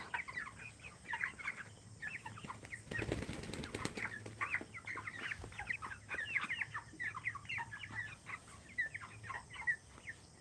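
Many chickens, including large heavy birds around three kilograms, cluck and chatter continuously in a busy, crowded flock on a poultry farm, with a brief burst of fluttering wings partway through and no voices.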